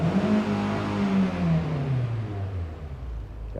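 A Nissan Altima with a reduced-power engine fault revs high and then winds down, a loud close roar with its pitch falling steadily over a few seconds before a brief low thump at the end; no talking.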